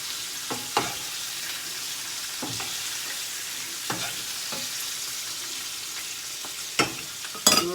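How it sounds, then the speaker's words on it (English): Meat sizzles steadily in a hot frying pan while it is basted, a continuous crackling hiss broken by several sharp spoon clinks and splashes of fat, heard close with no talking. "so baste a couple more times"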